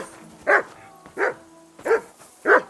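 A dog barks four times in evenly spaced single woofs, each one close and clear, with quiet gaps between them.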